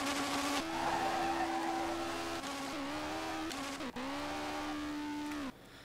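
A car in the Street Legal Racing Redline game launches hard in second gear. The engine strains at high revs with shrieking tire squeal, drops briefly twice as it shifts, then climbs again before cutting off near the end.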